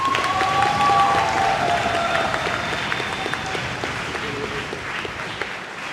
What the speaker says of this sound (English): Can we have a huge round of applause for an excellent finalist?